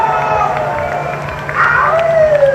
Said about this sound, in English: make some noise for all the teams! Round of applause, y'all!